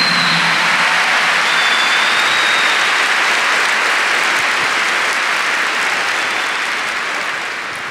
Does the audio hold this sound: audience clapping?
yes